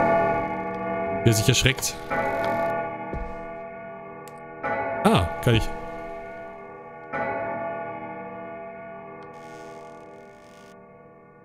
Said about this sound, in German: finde ich total gruselig, wenn eine Uhr läutet